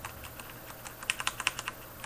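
Keystrokes on a sturdy SteelSeries 7G mechanical keyboard with Cherry Black linear switches, faint at first, then a quick run of about half a dozen sharp, close taps with no clicks.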